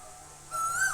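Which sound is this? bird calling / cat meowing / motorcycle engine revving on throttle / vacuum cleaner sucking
bird calling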